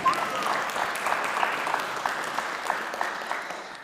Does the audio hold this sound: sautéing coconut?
no